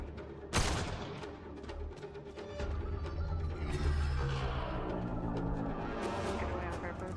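Gunfire in the video game Mass Effect Andromeda: a sharp loud shot near the start, followed by sustained rattling bursts and booms layered over a dense battle din.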